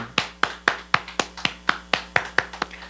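A church congregation claps steadily and rhythmically during a Wednesday service, about a dozen sharp claps at an even pace, close and clear with no voices.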